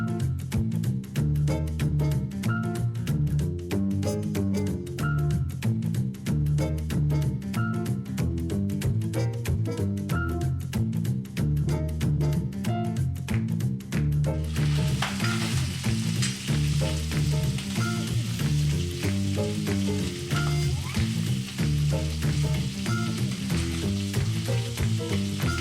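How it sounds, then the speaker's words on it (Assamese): Pieces of catfish (singhi), some full of eggs, sizzle and crackle loudly in hot oil, a dense continuous frying hiss under rhythmic background music for the first half. "এতিয়া মাছখিনি ভাজি ল'ম।"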